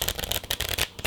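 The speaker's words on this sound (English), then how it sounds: "is just shuffling the corners just like that" Riffle shuffling of a deck of playing cards in the air, the corners flicked and pushed together as a rapid, crisp fluttering of card edges, close and fairly loud, with no voices.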